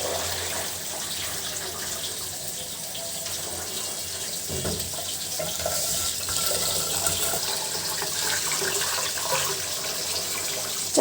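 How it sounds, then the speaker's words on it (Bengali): Rice is rinsed in water in a home kitchen before cooking, a steady wash of running and sloshing water carrying on continuously throughout, fairly close and without talk. "চালটা কিন্তু সুন্দর করে ধুয়ে পরিষ্কার করা হয়ে গেছে"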